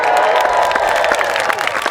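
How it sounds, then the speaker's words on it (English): A high school graduation crowd cheers and shouts together in a loud, dense burst, with excited voices and some clapping blending into a continuous roar. "you're all going to cheer on 3"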